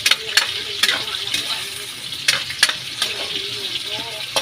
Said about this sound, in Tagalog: Parang binibrito lang natin yung patatas.